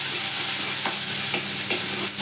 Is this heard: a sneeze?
no